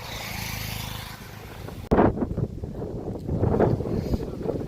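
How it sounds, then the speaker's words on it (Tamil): Wind blows outdoors in the Meghamalai hills near Cumbum, rumbling and buffeting the microphone at first, then continuing in gusts beneath a person talking nearby. "அவ்வளோ அழகாக வருது காற்று காற்று"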